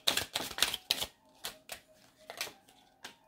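Tarot cards are shuffled by hand in a series of quick, crisp riffling and tapping bursts with short pauses between them. They sound close and fairly quiet, with no talking.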